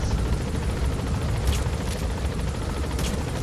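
A helicopter in Metal Gear Solid V: The Phantom Pain gives off a steady, loud rotor and engine rumble, dense and low, holding without a break for the whole few seconds.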